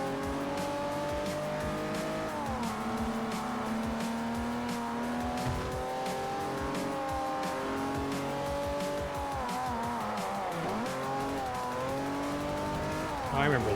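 A race car laps a track in the video game Forza Motorsport 4 with a continuous engine drone whose pitch rises and falls through gear changes, and tire squeal comes through under a person talking.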